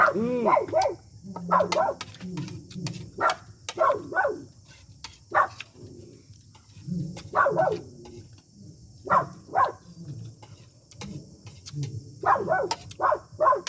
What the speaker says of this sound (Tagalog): Tumatahol na walang tao.